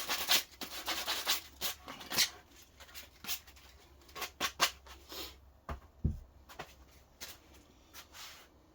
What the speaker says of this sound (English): So just tidy off the edges just with a little bit of rough sandpaper.